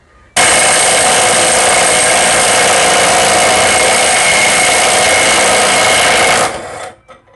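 DeWalt DCF922 cordless impact wrench tightening bolts toward a 610 Nm spec, one loud continuous hammering whir lasting about six seconds before winding down, close up with no talking.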